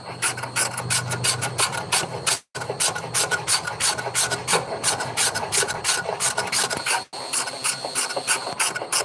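Hand sanding on a tooling board part, a steady run of rapid rasping strokes that continues throughout at close range, broken by two brief pauses, with no talking.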